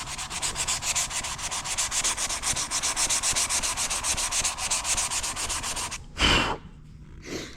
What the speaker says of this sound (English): I'm gonna show you guys me sanding off this stuff, all this nasty grime